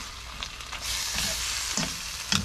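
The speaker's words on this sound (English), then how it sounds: "Give it a little stir right now. Yeah, you just give it a little stir, but you can see as it's cooking" Squid sizzles and fries in a pan while being stirred, a steady hiss with a few scraping stir sounds, close and moderately loud, no talking.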